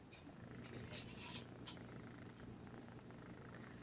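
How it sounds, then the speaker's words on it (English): A cat purring in a steady low rumble, fairly faint and continuous, with some background noise and a couple of brief brighter rustles near the start. "I love her purring."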